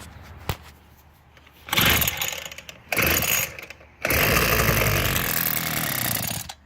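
A small engine sputters, then fires in short loud bursts as throttle is given and finally keeps running in a raspy, sustained buzz, close by with a few quiet gaps between revs.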